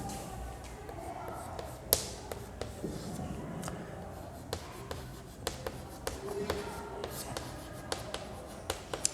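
Pen or chalk writing numbers during a math lesson, heard as scattered sharp taps and short scratchy strokes at close range over a low, quiet background.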